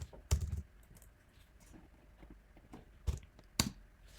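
Typing on a computer keyboard while entering text input for a Shiny app in R, faint scattered key clicks with a few sharper louder taps.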